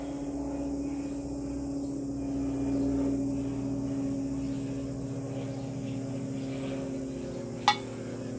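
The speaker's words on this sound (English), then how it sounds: "I think we've got a plane that's practicing its flying." A propeller airplane drones steadily overhead at a distance, a faint continuous hum that swells slightly and then fades, with no talking.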